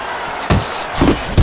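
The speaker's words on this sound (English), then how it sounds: "I like that two-punch combo by Kid Dynamite." Two sharp punches land in a Fight Night Champion boxing bout, a pair of heavy thuds about half a second apart over a steady crowd murmur, with a third thump at the end.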